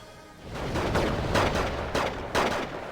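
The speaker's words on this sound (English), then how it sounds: "Here comes the bomb." Bomb blasts and gunfire in the Wargame strategy video game, with several heavy booming bursts following one another over a couple of seconds, loud and close, with no speech.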